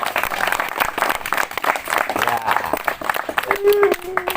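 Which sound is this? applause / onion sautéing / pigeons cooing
applause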